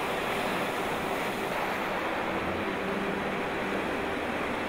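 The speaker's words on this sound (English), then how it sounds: "The incoming ocean tide creates steep waves where the two bodies of water meet." Continuous broadband wash of steep ocean waves where the incoming tide meets a river current, steady and loud with some wind rumble, no voices.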